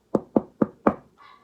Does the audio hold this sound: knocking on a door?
yes